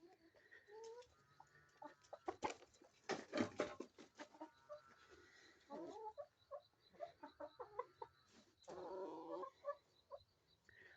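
Chickens clucking in a farmyard, a run of short, uneven clucks and squawks that come and go over several seconds, fairly close and moderately loud, with rustling and handling noise between bursts and no talking.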